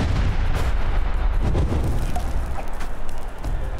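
Grenade blast in the cartoon artillery game Worms Reloaded: one sustained, loud rumbling explosion that fills the whole moment, with crackling debris over a heavy low roar, and no talking.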